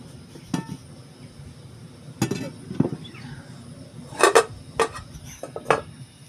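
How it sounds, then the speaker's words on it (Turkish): A cooking pot is set down on a small portable gas cylinder stove outdoors, giving a few sharp metallic clinks and knocks spread over several seconds, close and moderately loud with quiet background. "Tenceremizi koyduk."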